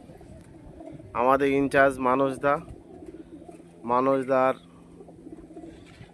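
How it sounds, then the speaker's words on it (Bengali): Pigeons in a loft holding about 25 birds give two bursts of close, loud, throaty cooing, the first longer and the second shorter, over a low steady background hum, with a voice talking quietly. "এই যে আমার পায়রা পট তোলা হয়েছে 25খানা পায়রা।"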